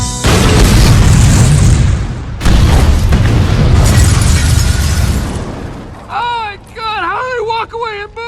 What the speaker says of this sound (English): Walk fast from that boring explosion